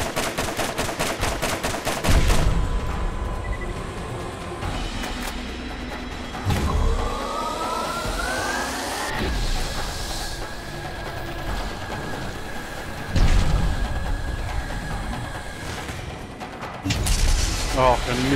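Gunfire from a weapon in a video game, rapid and loud with bursts of shots amid mechanical clatter and a dense game soundtrack, while a voice talks over it.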